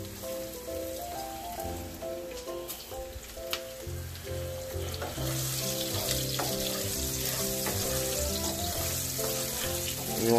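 Chopped onions frying in hot oil with salt for yam and stew give a soft, steady sizzle that grows hissier partway through, under prominent tuneful background music.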